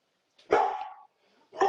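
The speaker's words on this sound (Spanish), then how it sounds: "El perro no entiende del directo, Gustavo" A dog barks twice indoors during a live broadcast, one longer bark followed a second later by another, close and loud against otherwise quiet surroundings.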